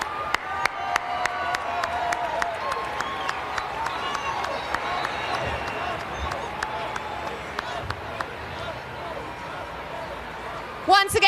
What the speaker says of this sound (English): a huge round of applause for our official Nike Half Marathon male winners of today in 2025.